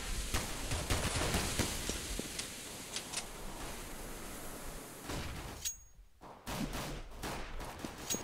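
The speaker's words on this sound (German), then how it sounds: "da kommen sie aus dem Haus schon geschossen" Gunfire in the CS:GO game on the de_inferno map, a tournament final, crackles as rapid bursts and scattered shots over a dense noisy mix, with a brief near-silent gap before the shooting resumes.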